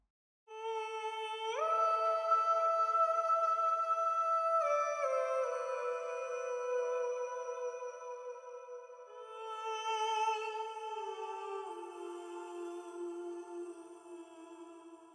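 A second choir track from the same production, played in full, holds long sustained vocal chords with slow pitch steps and a reverberant sheen, alone and fairly soft for about fifteen seconds.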